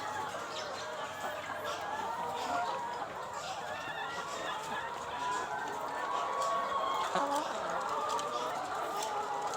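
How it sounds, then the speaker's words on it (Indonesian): Laying hens on a poultry farm housing about 950 birds, clucking and calling in a steady, dense chorus close by, with scattered bird chatter throughout. "Ini ayamnya."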